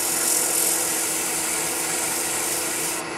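A wooden wine goblet spinning on a lathe is sanded in a steady, close, continuous abrasive rubbing hiss that runs evenly throughout and eases off slightly near the end.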